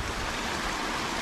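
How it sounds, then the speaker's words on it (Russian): Water runs steadily at the Chernorechenskoye reservoir in Crimea, a continuous broadband rushing like a stream or small spillway, close and even throughout with no voices. "Водичка идет."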